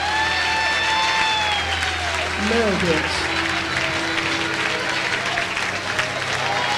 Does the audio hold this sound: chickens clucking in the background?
no